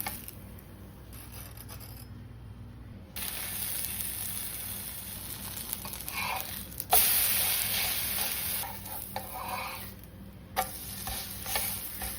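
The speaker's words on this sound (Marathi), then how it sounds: "ते पण आपण हे छोटे छोटे होल केले त्यात पण तूप सोडायचं आहे हे पण पलटूया" Thalipeeth frying in ghee in a pan, with small holes in the flatbread where ghee is poured: a steady hiss and sizzle throughout, with a few brief scrapes and taps of a spatula as it is turned.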